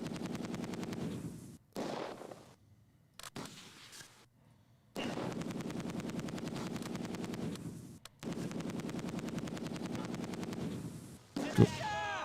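Vickers machine gun bursts in the Close Combat 2 battle at Arnhem, sustained rattling fire in several long stretches broken by short pauses, fairly loud, with a voice speaking over parts of it.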